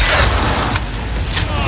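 Rapid gunfire in the video game Cyberpunk 2077, a dense, loud burst of overlapping shots and booms that fills the brief moment with no pause.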